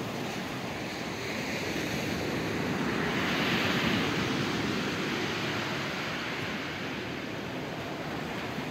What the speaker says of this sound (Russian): Массандровский пляж.